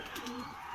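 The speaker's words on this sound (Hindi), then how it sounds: "ये बहुत ही छटपटादार कबूतर होता है।" A baby Madrasi pigeon of the light jiria type gives a single short, soft coo, heard close up against a faint background.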